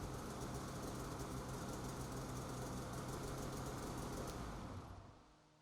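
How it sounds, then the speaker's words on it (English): A Polaris RMK Khaos snowmobile engine runs at a steady idle with a rough, even rumble, then cuts off and fades out near the end. "Finally, start the engine to ensure proper operation."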